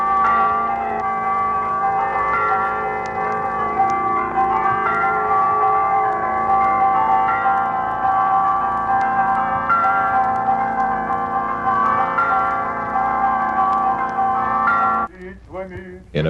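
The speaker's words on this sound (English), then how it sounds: "the tolling of one of the bells that burst forth with dissonant clamor on Sunday morning when the bell ringer pulls the ropes" Russian Orthodox church bells in Alaska clang together on a Sunday morning in a dense, dissonant peal, loud and sustained for about fifteen seconds before fading into a brief ringing tail.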